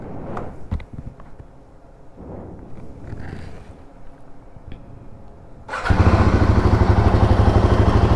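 A Royal Enfield Himalayan 450 motorcycle sits through several seconds of faint handling noises, then its engine fires and settles into a loud, close, throbbing run.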